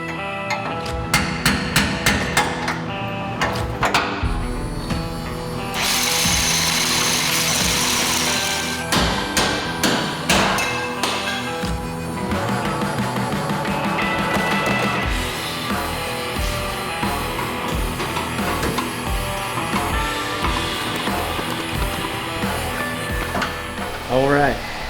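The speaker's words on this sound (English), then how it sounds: "I ended up removing the rivets that hold each of these brackets to make a little more room for that matching spare." Rivets are hammered out of the spare tire brackets on a full-size Toyota Tundra, opening with a fast run of sharp metallic strikes. Grinding and scattered blows follow under a steady mechanical hum, and a voice speaks over the work.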